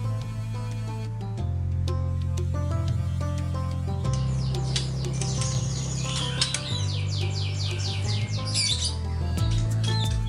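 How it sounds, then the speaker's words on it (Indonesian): Caged birds at a bird boarding hotel in Sleman, Yogyakarta, squawk and chirp close by, shrill calls repeating over a steady low hum of background noise throughout. "Budi Purwantoro membuka hotel burung atau penitipan burung selama mudik Lebaran."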